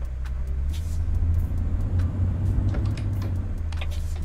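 A Mercedes O362 bus engine in the Euro Truck Simulator 2 game, a steady low rumble with faint clicks and rattles running throughout at even loudness.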